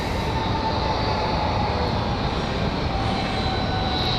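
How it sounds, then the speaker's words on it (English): Southwest airliner from Chicago Midway touching down at Raleigh-Durham, a steady loud broadband roar of engines and rolling tires with a faint whine running throughout, no voices. "we've got that touchdown of Southwest from Chicago Midway"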